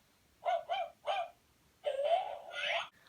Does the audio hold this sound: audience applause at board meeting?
no